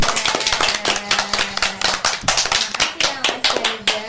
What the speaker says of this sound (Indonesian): Kasih tepuk tangan buat Mas Gaza.